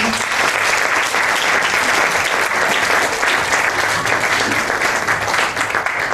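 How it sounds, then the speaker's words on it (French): Sustained applause and cheering from an audience at a Bible dedication ceremony in Duékoué, a dense, steady wash of clapping that stays loud and close throughout with no break. "Nous vous demandons de bien vouloir l'accompagner par vos acclamations."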